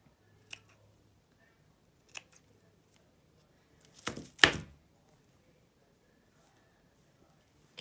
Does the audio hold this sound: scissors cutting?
yes